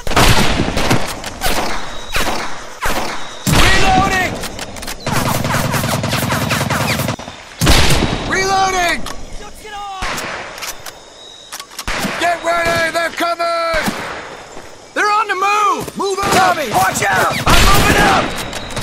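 Dense gunfire in the WWII video game Medal of Honor Pacific Assault, set on Makin Atoll: sustained machine-gun bursts and rifle shots crackle loudly throughout, mixed with shouted voices of soldiers calling orders.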